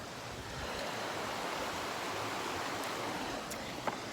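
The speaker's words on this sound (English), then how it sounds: "Just going to do 60 seconds of just the river" A river flows steadily through a wooded spot, a constant rushing wash of water at moderate volume with a couple of tiny clicks near the end and no speech.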